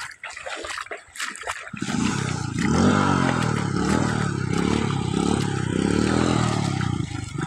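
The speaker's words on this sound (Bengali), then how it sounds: "মোটর সাইকেলটা স্টার্ট নেছে আমার" A motorcycle on a flooded rural road stutters, then catches and settles into a steady close engine idle, with splashing water and clatter around it and no talk.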